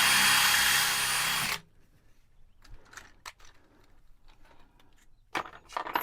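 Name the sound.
drill boring a pilot hole for a screw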